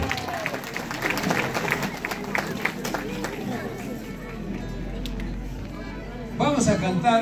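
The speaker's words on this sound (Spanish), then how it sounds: "Gracias por ese rápido aplauso." A crowd at a town beauty pageant in Puquio gives a quick round of applause, a steady wash of clapping mixed with murmuring voices that fades out before a louder sound cuts in near the end.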